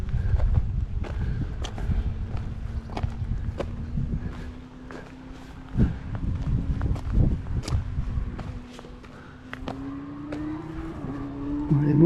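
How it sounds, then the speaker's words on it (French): Motorcycles climbing a mountain road toward the Col de la Borne pass in the Drôme, heard as a sustained engine drone that slowly rises in pitch. Scattered clicks, footsteps and outdoor noise sit over the engine, and voices may be present. "Les motos qui montent au col, ils font du bruit."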